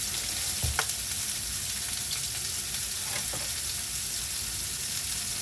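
Food sizzles and spatters in a hot frying pan at home, a steady close crackle with occasional sharper pops and stirring sounds, no talking.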